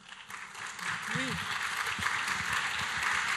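Audience applause in a conference hall, a broad wash of clapping that swells and holds steady for a few seconds, with a voice speaking briefly over it.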